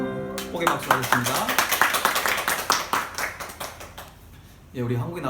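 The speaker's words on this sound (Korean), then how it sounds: "축복의 박수 하겠습니다." A church congregation at a Sunday worship service claps together in rhythmic blessing, a dense run of quick, loud hand claps that drops off near the end, with singing or speech before and after.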